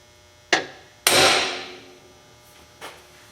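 Three sharp metallic taps from a hammer striking a center punch into metal, with the second blow loudest and each ringing off briefly in a quiet space.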